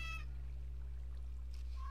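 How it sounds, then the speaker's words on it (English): A pet cat meows close by, one drawn-out call at the start and another rising call near the end, over a steady low hum. "Oh, my cat found me."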